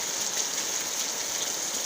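Steady rain falling on a rural smallholding with watermelon plants, an even close hiss with no voices.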